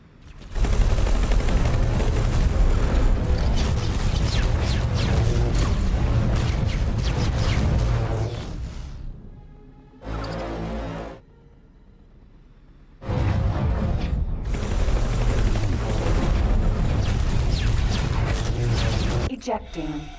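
Turret gunfire from a space combat game rattles in a dense, loud, sustained barrage, breaks off into a short burst and a quiet gap, then resumes just as heavily until the end.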